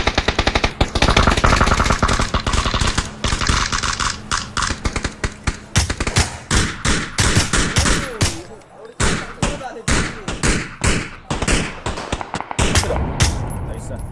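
Gunfire in the video game PUBG (Battlegrounds): dense bursts of rapid automatic fire, loud and close, broken by short pauses and single cracks, with players talking over the shooting at times.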